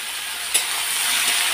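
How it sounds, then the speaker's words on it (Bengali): Potatoes frying in hot oil with bay leaf and dried chilli, a steady close sizzle and hiss with one brief clatter of stirring, no voices. "আলুটাকে একটু আগে ভেজে নেব"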